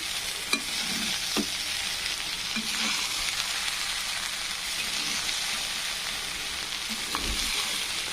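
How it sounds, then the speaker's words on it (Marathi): Boiled rice is mixed in a hot pan for pulao, a steady close sizzle with a few soft scrapes and taps of stirring, no talking. "छानपैकी उकडलेले तांदूळ असे टाकून घेऊन मिक्स करून घ्यायचं"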